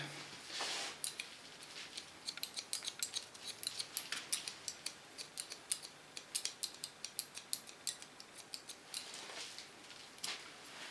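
Scissors snip hair using a slice-cutting technique during a short pixie haircut, making a rapid, rhythmic run of crisp close-up clicks with a few brief pauses.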